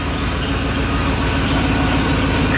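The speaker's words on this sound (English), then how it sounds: "She's still idling." A 1989 Ford Bronco engine idles loudly and close by, a dense, steady rumble with a rough throb and nothing else audible.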